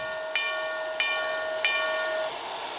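A sustained steam locomotive whistle tone from the sound system of an HO scale Southern Pacific model steam locomotive, steady and clear, with three soft chuffs pulsing evenly beneath it.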